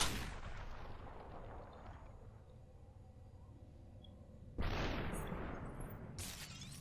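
Gunfire in the video game Superhot: a loud blast that decays into a long fading tail, then another sharp shot burst later, heard close with no talking.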